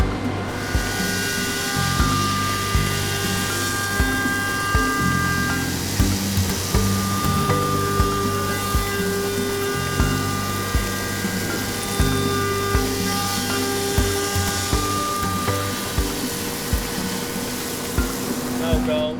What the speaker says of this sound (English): The blocks are then flipped over for milling on the other side.